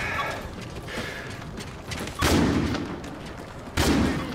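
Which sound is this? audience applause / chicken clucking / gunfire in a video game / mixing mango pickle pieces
gunfire in a video game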